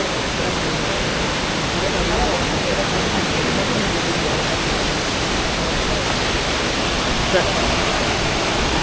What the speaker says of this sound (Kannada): ಅಲ್ಲಿನ ನೀರು ಕಟ್ಟಾಗಿ ಕ್ರಾಸಾಗಿ ಕೆಳಗಡೆ ಬಂದು ಇಲ್ಲಿ ಬೀಳ್ತಾ ಇದೆ